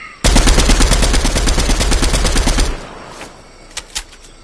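An SMG fires loudly at close range in a PS4 video game, a rapid, evenly spaced burst lasting about two and a half seconds, followed by a few fainter single cracks.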